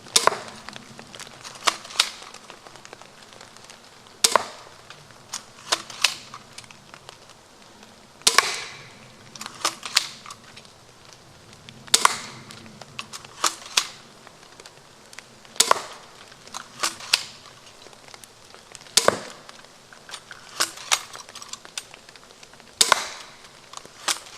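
Viper repeating pistol crossbow firing bolts into a foam target, a series of sharp snapping shots with thuds spaced every few seconds, fairly close, with quiet handling sounds between.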